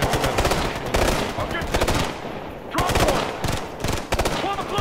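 Machine-gun fire from the video game Ghost Recon Future Soldier rattles in loud, rapid bursts separated by short pauses, with voices briefly under the shooting.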